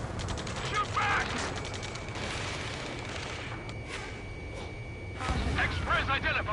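Gunfire in the combat flight game Ace Combat 7, rapid machine-gun bursts under shouting voices and battlefield clatter, loudest near the start and the end.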